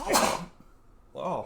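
A single sharp sneeze bursts out close to the microphone indoors, followed by a short pause and then a brief spoken exclamation.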